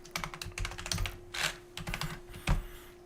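Someone types on a computer keyboard to load a VIC-20 demo: rapid, irregular clicking keystrokes, close and fairly loud, with a steady hum underneath and no talk.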